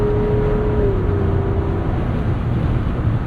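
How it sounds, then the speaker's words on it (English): A 2024 Jeep Wrangler 392 Final Edition Rubicon with its 6.4-liter Hemi V8 cruises with the exhaust set to quiet mode, giving a steady low engine rumble mixed with road and wind noise and a slight pitch shift partway through. "we'll make a pass here with the exhaust in quiet so you guys can hear the difference"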